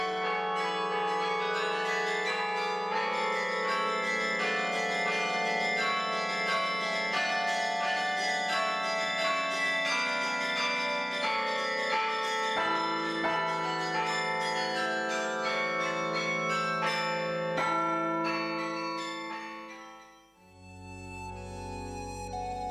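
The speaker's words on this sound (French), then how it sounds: "Avec ses 61 cloches, ce carillon fait partie des plus importants carillons de France." A large carillon of 61 church bells rings out a continuous melodic peal, many tones overlapping and sustaining, loud and close, then stops near the end as the last notes decay, with no voices.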